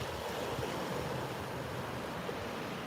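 Water lapping at a clear, chilly shoreline, heard as a steady, broadband wash of gentle surf mixed with light wind noise, continuous and even throughout with no voices.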